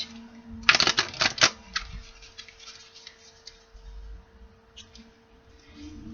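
A quick riffle of cards rattles up close, a burst of rapid flicking lasting about a second, followed by quieter shuffling sounds.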